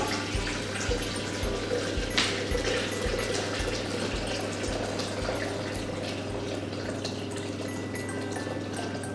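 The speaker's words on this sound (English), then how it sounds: "Next step there is to add 1 litre of water." Freshly boiled water pours steadily into a Thermomix mixer bowl for several seconds, a continuous splashing rush over a low hum.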